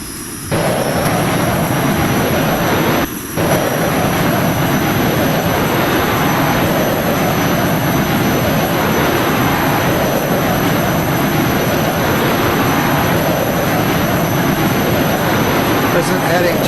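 Jet aircraft in the FlightGear flight simulator accelerating, a loud, steady broadband engine roar with a high whine, continuous and close for the whole stretch apart from a brief dip near the start.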